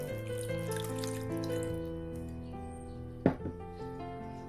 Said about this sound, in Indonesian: ambil air, tuang air dalam ini lanjang